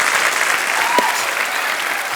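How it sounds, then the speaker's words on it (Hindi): Steady, dense applause from a studio audience at a talk show, loud and continuous throughout, with a brief voice rising above it. "जोरदार तालियां यार।"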